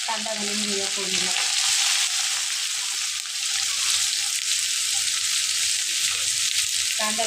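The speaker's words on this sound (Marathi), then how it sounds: "तिला कांदा घालून घेऊया फोडणीला।" Chopped onion sizzles in a hot oil tempering with chili and garlic paste, a loud continuous hiss close up with light stirring scrapes throughout, no talking.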